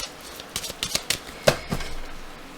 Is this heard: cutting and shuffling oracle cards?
yes